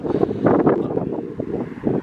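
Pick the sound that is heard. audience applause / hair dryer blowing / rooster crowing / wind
wind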